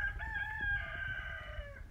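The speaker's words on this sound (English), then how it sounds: "I've still got roosters out here" A rooster crows one long, loud, tonal cock-a-doodle-doo close by on a backyard poultry setup, alone without talk.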